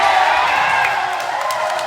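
Crowd at an interlodge basketball game cheering and shouting in a steady, dense roar that holds loud throughout without a break.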